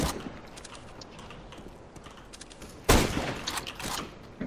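Gunfire in CS:GO deathmatch, a scattering of quiet distant shots followed by a louder close burst of rapid shots near the end, with game background noise throughout.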